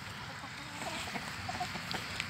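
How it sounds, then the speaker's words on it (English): Chickens cluck softly in a garden plot they have been scratching up, a few brief, quiet calls standing out over a low, steady outdoor background. "we brought these chickens in 24 hours ago."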